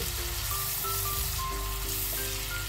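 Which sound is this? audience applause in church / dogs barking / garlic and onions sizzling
garlic and onions sizzling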